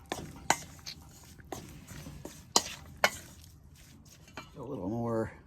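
A spoon clinks and scrapes against a pot while Guinness lamb stew mixture is stirred, giving a few sharp knocks spaced irregularly, then a short rising burst of voiced sound at the end.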